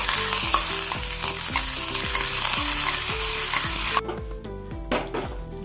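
Mustard seeds, dried chilli and curry leaves frying in coconut oil for a Kerala sambar tempering, loud close sizzling and spattering alongside rhythmic stirring scrapes, then the sizzle drops sharply as the oil quiets.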